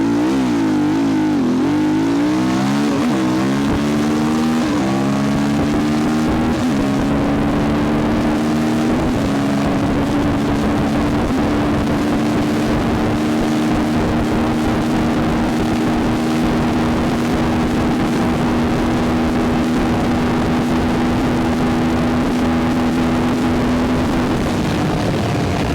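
2023 SWM RS500R motorcycle making a second-gear start on reasonably firm dirt, its engine note climbing steeply at first, then holding a loud, sustained high drone as it keeps pulling with wind rush, close and continuous throughout.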